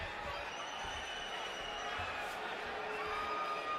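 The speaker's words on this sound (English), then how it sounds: "Crowd is chanting Marquez, Marquez, Marquez, trying to get their star started early." A large boxing arena crowd chants and roars ahead of the Timothy Bradley Jr. versus Juan Manuel Marquez fight, a continuous dense wash of distant massed voices.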